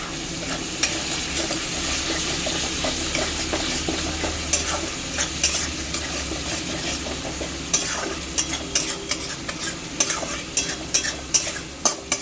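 Katla fish curry being stirred and fried in a pan, a constant sizzle under repeated scraping strokes of a spatula that grow sharper and more frequent toward the end.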